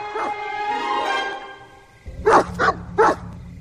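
A dog barks three times in quick succession, loud and close, following a stretch of unrelated background sound.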